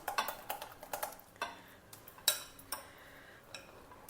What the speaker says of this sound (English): Just beat the batter a little.